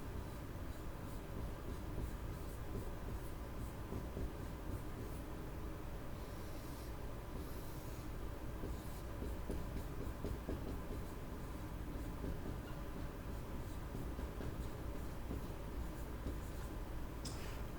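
Steady, scratchy hand-writing noise runs continuously and fairly quietly during a fifth-grade drama vocabulary lesson, with no talking over it.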